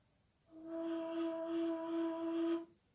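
A single soft, breathy ney reed-flute tone blown gently, held for about two seconds, quiet and airy with a gentle wavering pitch, heard alone.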